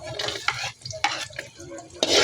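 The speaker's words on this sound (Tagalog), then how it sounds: "Gigisahin mo natin yung mga ricado." Ginger and garlic sizzle in hot oil as they are sautéed for Bicol express, with brisk repeated stirring strokes and scrapes of a utensil in the pan, close and loud.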